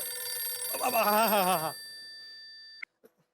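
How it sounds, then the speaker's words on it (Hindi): A telephone rings with a warbling electronic trill, loud and close, then cuts off abruptly, followed by a couple of faint clicks. "ओ घंटी बज रही है, पप्पू फोन चेक कर।"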